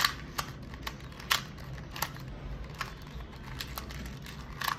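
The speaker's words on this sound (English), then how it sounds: "So now I'll shuffle my cube." A 2x2 Rubik's cube being shuffled by hand gives off quick, light plastic clicks and rattles in scattered bursts, close and fairly quiet over a low background hum.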